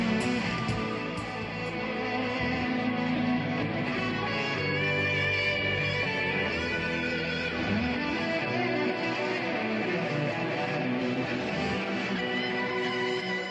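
Electric guitar in a solo tone, humbucker pickup through a compressor, Boss SD1 overdrive, Boss CS2 compressor and delay, sustained singing notes and bends playing alone at moderate volume without talk.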